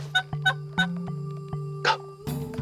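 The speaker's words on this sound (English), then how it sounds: "So we've got turkeys feeding around the corn." Wild turkeys gobble and call while feeding around corn, several loud, close bursts repeating at irregular intervals over a steady low hum.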